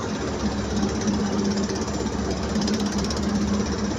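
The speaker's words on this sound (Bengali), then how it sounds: "মাছ ধরা ট্রলার" A fishing trawler's diesel engine chugs loud and steady on the Meghna river, with a continuous rapid knocking throb and no pauses.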